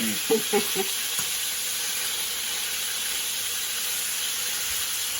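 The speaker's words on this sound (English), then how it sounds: "we're going to let that saute a little" A sauce base without onion sautés in a pan on an electric stove for an Italian Sunday ragu, a steady, close hiss of sizzling throughout, with a few brief knocks and scrapes near the start.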